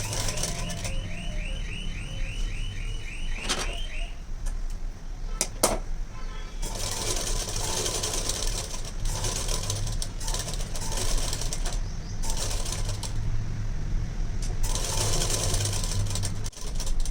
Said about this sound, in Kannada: ಈಗ ನೀಟಾಗಿ ಹಿಂಗೆ ಸ್ಟಿಚ್ ಹಾಕೊಂಬಂದ್ಬಿಡಿ